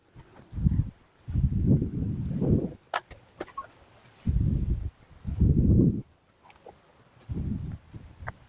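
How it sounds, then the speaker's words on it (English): Gusty wind buffets a camera microphone outdoors, arriving in repeated low rumbling bursts of about a second each, separated by short lulls, with no one talking. "the wind is kicking up a little bit and it was making the camera"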